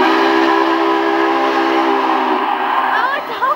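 A loud, sustained whistle from Union Pacific 844 steam locomotive, several blended tones, sounds for a couple of seconds, then fades into rolling rail noise.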